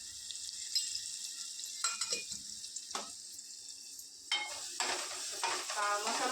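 Homemade Malvani masala stirred and sautéed in a hot pan for a wet cashew vegetable dish. A steady close sizzle runs throughout, broken by several scraping spoon strokes against the pan, with no talking.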